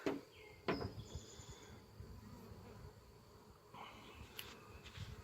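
Honeybees swarm and buzz densely around a packed hive, a soft continuous hum with individual bees zipping close past, faint and outdoors with no talking.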